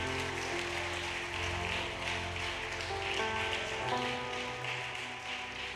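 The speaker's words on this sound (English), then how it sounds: "Kindly clap for God." A church congregation at a Sunday service claps for God, a dense, sustained patter of many hands filling the room at moderate volume with a steady rhythm and no clear voices.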